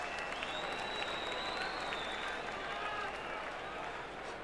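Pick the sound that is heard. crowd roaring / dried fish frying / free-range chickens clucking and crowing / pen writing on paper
crowd roaring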